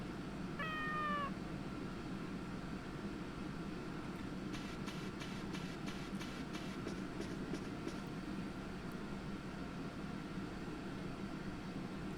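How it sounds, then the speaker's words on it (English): A white cat in the game Harvest Moon Tree of Tranquility gives one short meow early on, over a steady low rumble with a brief series of rapid ticking clicks later. "Ooh, a white cat. Snow cat."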